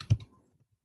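A single quick press on a calculator key gives one sharp plastic click close by, followed by near silence.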